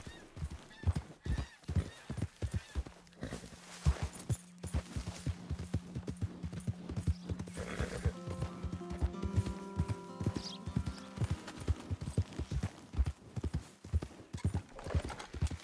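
Horse galloping in Red Dead Redemption 2, rapid rhythmic hoofbeats throughout with a whinny partway, close and steady, faint voices in the background.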